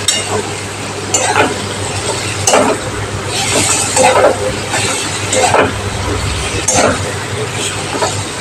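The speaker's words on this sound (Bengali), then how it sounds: "বেগুনটা বেশি ভাজবো না, বেগুনটা বেশি ভাজলে একদম ডুবে যাবে।" Eggplant frying in a pan for a fish recipe, with a steady sizzle under repeated clinks and scrapes of a utensil stirring against the pan.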